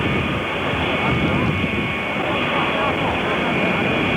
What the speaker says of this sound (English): It's a 707 Astrojet.